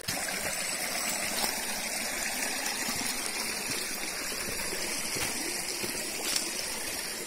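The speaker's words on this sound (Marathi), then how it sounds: "शेजारीच ओढा वाहत आहे." A stream near Bori waterfall flows beside the path, a steady close rushing and splashing of water with no pauses throughout.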